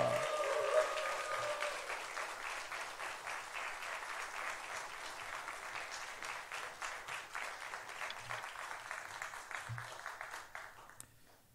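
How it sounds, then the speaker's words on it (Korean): Sustained applause from a church congregation welcoming a pastor, steady clapping fading toward the end, with no clear cheering standing out. "우리 목사님 나올 때 함성과 함께 박수로 환영합니다."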